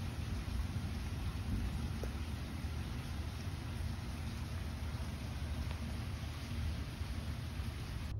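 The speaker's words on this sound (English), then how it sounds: "I've got a video of the rain collecting in those areas" Steady rain pours down in a constant hiss with a low rumbling undertone, unbroken throughout.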